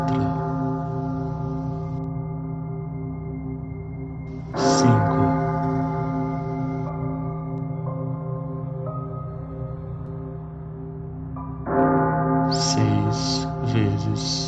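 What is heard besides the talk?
bronze bell tolling slowly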